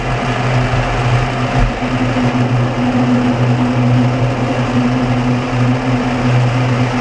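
A size 16 threading die cuts a thread during repair work on an MA 4132 forging hammer, heard as a steady, loud mechanical whirring drone with a low hum that runs unbroken throughout.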